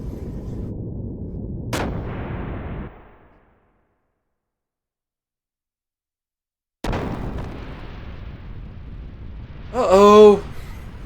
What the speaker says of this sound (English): it seems as if a gun blast has made a hole in the hull